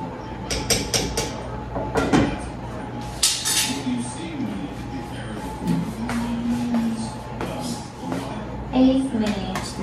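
Pots, pans and utensils clink and clatter in a home kitchen while dinner is being cooked, with sharp metallic knocks scattered over a steady background and a voice talking at times.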